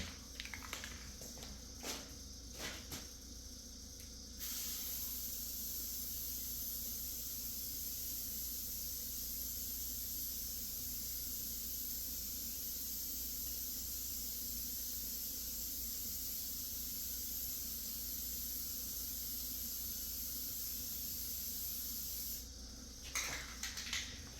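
A rattle-can spray paint nozzle hisses in one long continuous burst as a car bumper gets a heavy coat, steady and close for about eighteen seconds, with a few short clicks and bumps just before and after.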